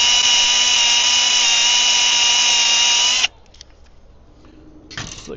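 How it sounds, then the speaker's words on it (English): A power drill bores into steel armor plating for a Kenworth logging truck, a loud steady high whine running for about three seconds before cutting off, then a brief burst of the motor restarting near the end. "Now on steel, you want to drill it kind of slow with a lot of pressure."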